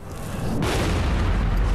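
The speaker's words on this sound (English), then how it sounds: "In this scene from the Heart Locker, extreme slow motion is used to brilliantly capture an explosion." Explosion from The Hurt Locker played back in extreme slow motion: a low rumbling build that bursts at once into a loud, dense, sustained roar.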